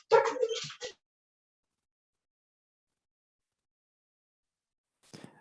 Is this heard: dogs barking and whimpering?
yes